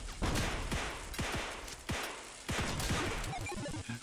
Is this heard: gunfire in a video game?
yes